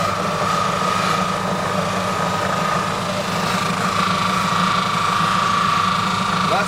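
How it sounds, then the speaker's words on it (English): A buffing machine polishing a mandolin body in a workshop hums loudly and steadily with a high whine and a low droning rumble, continuous and close throughout. "buffing machine?"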